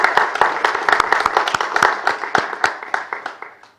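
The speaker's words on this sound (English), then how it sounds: "another round of applause" Applause from a conference audience after a talk, a moderate crowd of hands clapping in a quick, uneven patter that thins toward the end.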